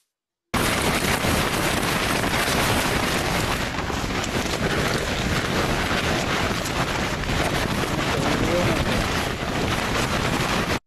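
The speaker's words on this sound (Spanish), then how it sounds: "Acá les voy a mostrar un videito de cómo era el viento." Strong wind during a climbing attempt on the Torre Norte del Paine in Patagonia: a loud, continuous roar of gusts buffeting the microphone, steady and overwhelming for the whole stretch after a brief silent start.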